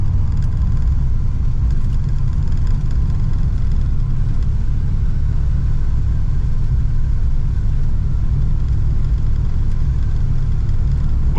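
A 1964 Oldsmobile 98 engine running while the car drives, a steady low rumbling drone with constant loudness, heard from inside the car with no other sounds.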